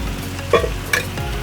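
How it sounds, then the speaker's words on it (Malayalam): Chili powder and coriander powder being stirred in a hot pan, with a couple of scraping strokes of the spoon over a steady low frying hiss, close and moderately loud, with no talking. "എന്നിട്ട് നമുക്ക് നന്നായിട്ട് ഇളക്കി കൊടുക്കാം."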